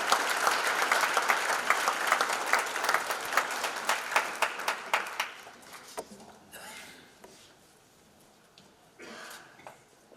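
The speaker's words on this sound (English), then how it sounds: "Let's give another round of applause as she makes her way to the stage" Audience at a hall of fame induction ceremony applauding as an inductee walks to the stage, steady clapping for about six seconds that thins to a few scattered claps.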